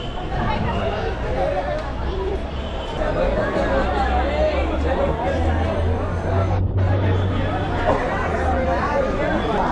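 A dense crowd murmurs outside Siddhivinayak temple in Mumbai, a steady, unbroken babble of many indistinct voices with a low traffic rumble underneath.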